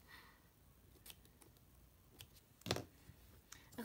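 Scissors snip through washi tape laid across a vertical planner page, a single crisp cut near the middle of a taped bow shape amid a few faint ticks and rustles, close and quiet.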